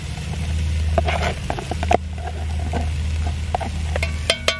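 Pork and potatoes sizzle in a cast iron pan over an outdoor firepit, a steady frying hiss with scattered clinks and scrapes of stirring and a low rumble underneath.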